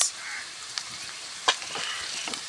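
Onion, carrot, capsicum and beans sautéing in a pan, a soft continuous sizzle broken by a few sharp stirring clicks and scrapes, fairly quiet and close.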